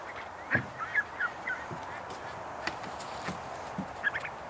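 A duck with a Muscovy-like body and feet gives several short, raspy honks at moderate distance, spaced irregularly over a quiet outdoor background.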